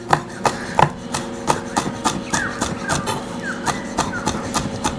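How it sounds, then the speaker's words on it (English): A knife chops fresh oregano leaves on a board for lamb souvlaki, with a steady run of close, fairly loud rhythmic taps about every half second. "I'm gonna add all of this oregano, and we're just gonna chop that up."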